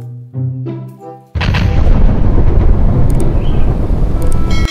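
A grenade in the shooting game Free Fire goes off after a short tonal lead-in, followed by a loud, sustained booming rumble that lasts several seconds.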